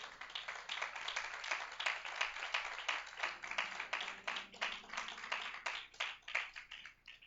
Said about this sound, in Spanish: Denle un aplauso al Rey de Reyes